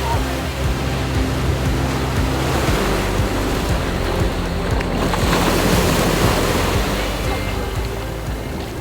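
Ocean waves wash onto a beach in the Algarve, a broad continuous roar of surf mixed with gusty wind buffeting the microphone, swelling slightly in the middle.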